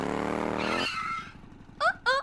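A voice talks briefly, then two short, high tire squeals screech in quick succession, like a motorcycle skidding away.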